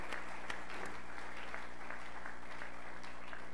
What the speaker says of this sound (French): On peut encore les saluer par les acclamations.